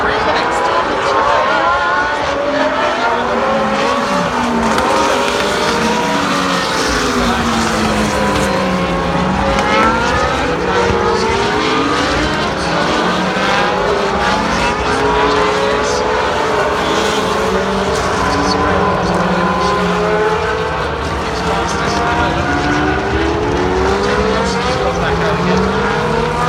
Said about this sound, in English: Cars lining up at the pit lane exits, led by the late Ron Maiden, and they go out for 3 minutes.